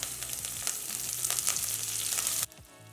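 Chana dal, finely chopped green chillies and curry leaves fry in hot oil as a tempering for hotel-style kharabath upma, giving a steady, close crackling sizzle that stops abruptly near the end.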